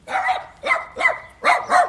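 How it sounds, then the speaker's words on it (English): A dog barks five times in quick succession, loud and close, the barks coming in an uneven rhythm. "Barking dogs."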